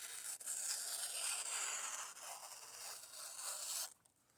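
A CPM S35VN steel knife slices through a sheet of paper in one long, smooth hissing cut lasting several seconds, close and fairly quiet, ending abruptly in near silence.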